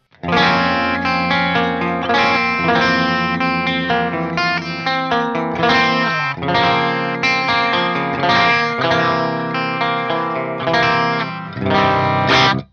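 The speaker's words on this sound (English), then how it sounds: "pull the treble knob out if you want more of like an edge of breakup sort of sound" An electric guitar played through a small lunchbox amp with the treble knob pulled out for a slightly gritty, just-breaking-up tone, strummed chords and riffs ringing with light reverb, no voices.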